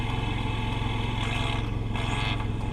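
The loud turbocharged four-cylinder of a PT Cruiser GT with a converted intake manifold idles or cruises close by, a rapid even pulsing drone with a brief whooshing rise in the middle.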